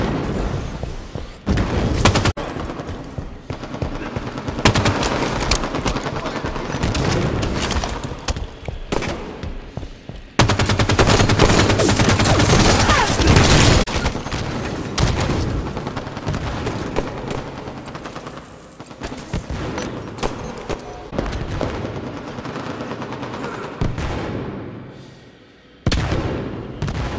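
Loud bursts of gunfire ring out in rapid volleys, some booming like heavy fire, with brief pauses and a dense sustained stretch in the middle before tapering off.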